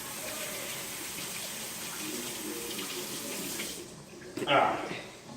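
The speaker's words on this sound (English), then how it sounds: "Then wash my hands again because I hate that little nasty feeling on my hands." Tap water running steadily into a kitchen sink while hands are washed, a continuous close splash that cuts off near the end, followed by a brief clatter.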